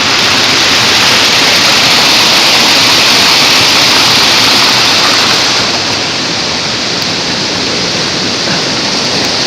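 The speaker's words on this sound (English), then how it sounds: "One waterfall after another." Steady, loud roar of a waterfall in El Yunque National Forest, a dense continuous rush that barely changes from start to finish, with no voices.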